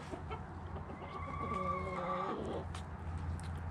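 A hen walking on an icy cement surface on a cold winter day gives a short, soft, wavering vocalization in the middle, faint beneath steady outdoor background noise.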